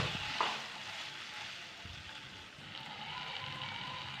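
Paneer frying in a pan with ginger and green chillies makes a soft, steady sizzle with a light clatter as it is stirred. The sound is faint, continuous and close, with no voices.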